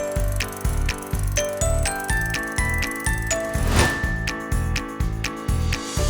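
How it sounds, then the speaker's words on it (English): Rapid mechanical ticking of a ratcheting bicycle freewheel in regular bursts, set against a steady rhythmic musical backing. "bicycle, bicycle,"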